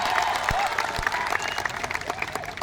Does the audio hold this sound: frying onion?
no